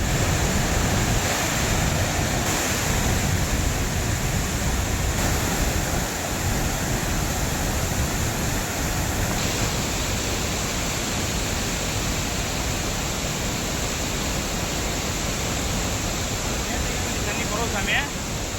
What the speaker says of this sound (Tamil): சுருளி அருவியில் தண்ணீர் ஆர்ப்பரித்து கொட்டுகிறது.